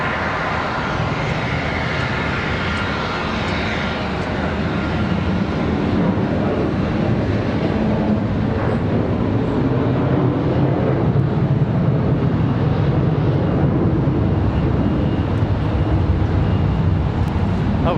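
A fixed-wing airliner moves along the taxiway at Charlotte Douglas International Airport, its engines giving a loud, steady roar and whine that holds for the whole stretch with no pauses.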